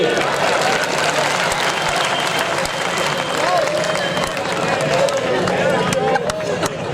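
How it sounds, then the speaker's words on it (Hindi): A crowd applauds in a sustained burst of clapping, a dense rattling wash with some voices mixed in. "ताली बजाइए।"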